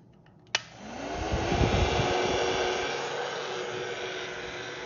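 A 1000-watt heat gun runs off a 1000 W inverter. A sharp click starts it, then a steady, loud blowing whoosh rises and holds, alone and close.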